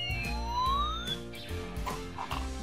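A toy police car siren gives a thin electronic wail that sweeps up and down, with rhythmic beeping or clicking pulses underneath, quiet and close throughout the short clip.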